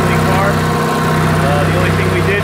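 An Onan RV generator with a 6.5 NH gasoline engine, converted to run on propane vapor, idles steadily with a loud, even drone and rattling hum, close up and without pause.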